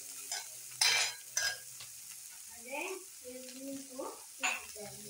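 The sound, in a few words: stir-frying bitter gourd in a pan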